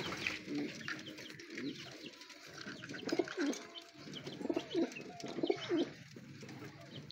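Pigeons coo repeatedly nearby, their low throaty calls rolling in short bursts, with faint chirps in the background.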